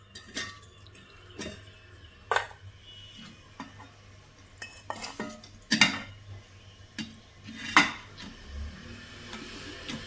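Avul laddu mixture stirred in a pan with a spoon, giving repeated clinks and scrapes of metal against the pan at an uneven rhythm, close and fairly quiet, with no talking.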